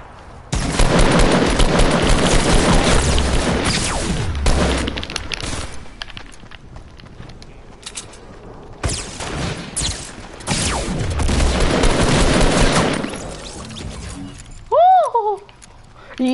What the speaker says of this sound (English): He threw grenades!